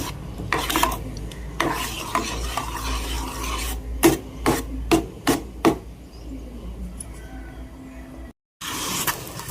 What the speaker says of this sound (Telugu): దీన్ని మొత్తం ఉండలు లేకుండా కలిపేసుకుందాం